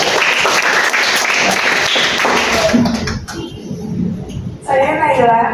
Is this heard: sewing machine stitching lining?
no